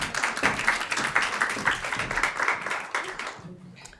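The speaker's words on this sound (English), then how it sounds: "Applause" A summit audience claps to welcome a managing partner to the stage, a moderate burst of many hands with voices mixed in, fading toward the end.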